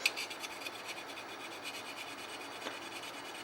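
A hand file works the rough feed lips of a 2011 pistol magazine in quick, even strokes, giving a close, faint, steady scraping rasp with no voices.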